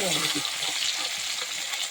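Fish pieces frying in a pan of hot oil, a continuous close crackling sizzle with small bubbling pops and no talk.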